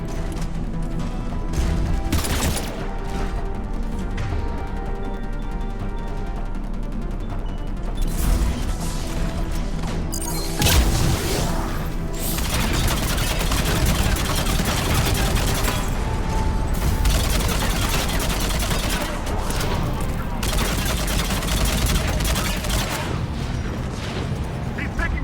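Dense battle gunfire from the Mass Effect 3 video game, with continuous bursts and heavy impacts layered over a loud, busy mix of explosions and mechanical noise, with voices now and then.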